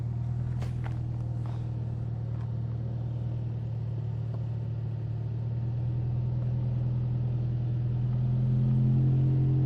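A Toyota Tacoma TRD Pro truck off road with a trailer hitch, its engine a steady low rumble throughout, rising slightly near the end, with faint scuffs and knocks over it and no talk.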